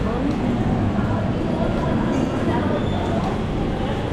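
Steady low rumble of a train running on rails, continuous and fairly loud, with faint rattling and a hint of wheel squeal throughout.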